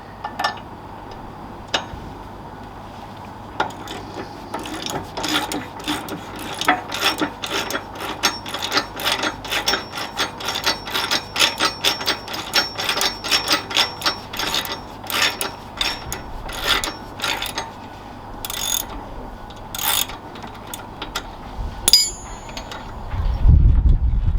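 Ratchet tightening the bolts of a pannier guard on a 2021 Harley-Davidson Sport Glide, long runs of rapid close clicking in repeated strokes with short pauses between, loud and alone, ending in a few knocks.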